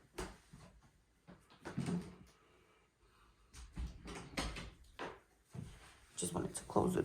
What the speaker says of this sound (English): Just wanted to close the door.